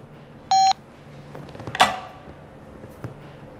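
A phone gives a single short, clean electronic beep after a call is hung up, followed by faint rustling and a soft clatter in a quiet room.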